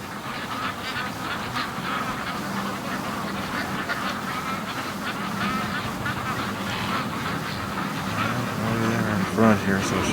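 A flock of free-range ducks quacks and honks continuously as they rush home toward the lake in the morning, the chorus growing louder near the end, with a voice talking over it at times.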